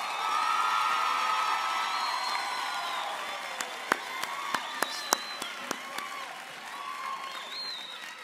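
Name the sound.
audience applause at graduation ceremony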